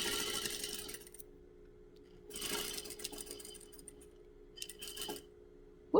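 Sewing machine stitching fabric for a coffee cup cozy, with short bursts of running stitches separated by pauses, ending in a brief back stitch.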